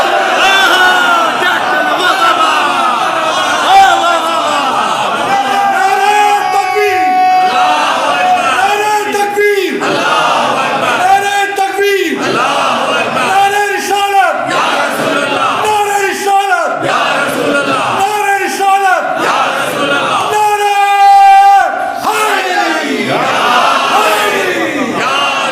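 Crowd of mourners seated on the floor at a Fatimiyya majlis in Shivli, Azamgarh, chanting religious slogans in loud, rhythmic bursts of massed voices, repeated call-and-response style throughout.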